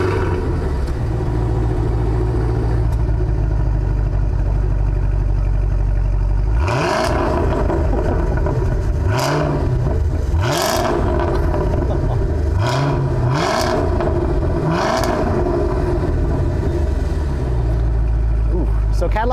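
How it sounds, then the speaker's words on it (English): A 2022 Cadillac CT5-V Blackwing's V8 idles with a heavy, steady rumble, then fires off several sharp, loud throttle blips that rise and fall, with brief pauses of idle between each rev. "let's go ahead and fire up this engine so you can hear what that nasty V8 sounds like"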